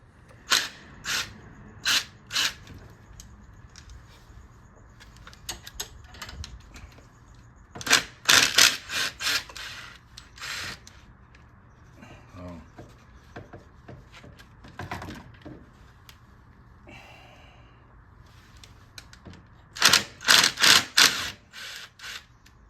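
A ratchet works on the oil filter cap of a Suzuki Quadsport LTZ250 ATV, giving several bursts of rapid, sharp clicking close by, separated by quieter pauses with faint handling noises.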